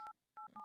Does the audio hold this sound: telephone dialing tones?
yes